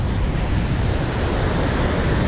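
Wind roars and ocean surf crashes during a tropical storm at Sunny Isles Beach, Florida, in June 2022, a loud, constant blustery wash with heavy wind buffeting the microphone.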